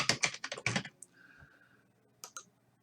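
Quick bursts of typing on a computer keyboard while renaming a file in a graphic design program, close and crisp, followed by a few scattered key clicks after a pause.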